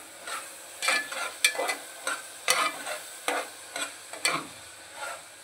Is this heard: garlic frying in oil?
yes